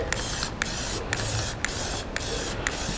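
Plasti Dip rubber coating sprayed from an aerosol can onto a Toyota Supra car dashboard, a steady close hiss in repeated bursts with short pauses between passes.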